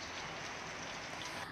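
Heavy monsoon rain falls on a village in rural Amreli, Gujarat, with water running through the market street, a faint, even, continuous hiss of downpour and no voices.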